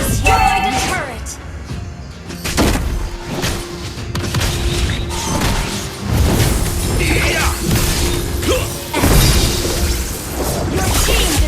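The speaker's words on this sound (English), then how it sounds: "Your team destroyed the turret!" Busy multiplayer battle in a MOBA mobile game as a turret is destroyed, with shattering crashes, booms and whooshes layered over constant game music and announcer voice lines.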